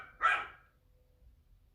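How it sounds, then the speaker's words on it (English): One sharp dog bark rings out close by near the start, then fades into a quiet, faintly murmuring background. "edit out my dog's barking"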